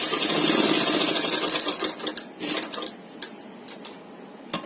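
A sewing machine stitches the center seam of a dori-trimmed neck design, whirring rapidly and loudly at first, then slowing into scattered ticks and clicks near the end.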